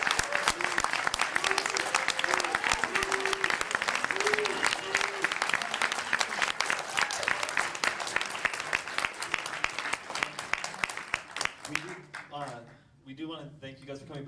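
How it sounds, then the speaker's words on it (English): Audience applause at a film reunion event, sustained dense clapping filling most of the stretch before tapering off near the end, with a voice speaking over it. "I want everyone to give a big round of applause for Clu Gallagher."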